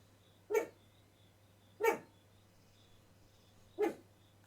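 A dog in the game Fran Bow barks three times at irregular intervals, each bark short and clear against a quiet, faintly humming background, with no talking.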